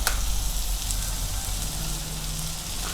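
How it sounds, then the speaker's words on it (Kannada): Ginger garlic paste frying in a hot pan for veg hakka noodles gives a steady, dense sizzle that holds evenly throughout, close and alone with no talking. "ಫ್ರೈ ಆದಮೇಲೆ ಶುಂಠಿ ಬೆಳ್ಳುಳ್ಳಿ ಪೇಸ್ಟ್ ಹಾಕ್ತೀನಿ"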